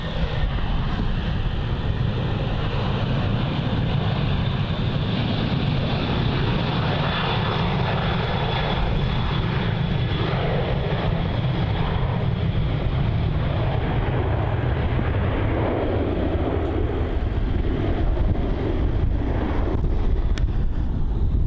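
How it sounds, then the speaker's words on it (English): Qantas airliner, flight QF679 to Adelaide, taking off at Melbourne Airport: a loud, continuous jet-engine roar with broadband rumble and wind buffeting, heard from a distance and sustained the whole time without speech. "On screen now we have Qantas flight QF679 off to Adelaide"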